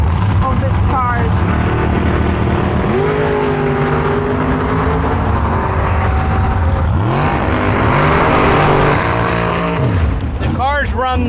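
A drag racing car accelerates hard down a straight strip, its loud engine note rising and sweeping in repeated surges, with crowd and voices audible beneath the roar.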